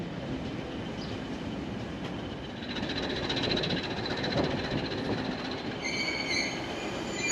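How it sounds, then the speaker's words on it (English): A train rumbles steadily past on the Douro Valley line, its wheels growing louder midway, with high metallic squeals ringing out toward the end. "we are met by the early morning train from Pocinho coming the other way."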